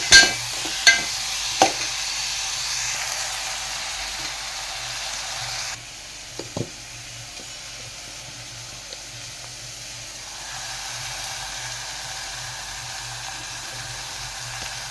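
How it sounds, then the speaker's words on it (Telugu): Tomatoes, coconut and turmeric frying in a pan give a steady soft sizzle, with a few sharp spoon knocks against the pan early on as the mixture is stirred, close and alone. "ఇప్పుడు పసుపు కూడా వేసి కలుపుకుంటున్నాం"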